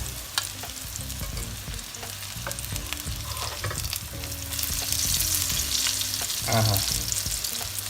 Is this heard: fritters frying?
yes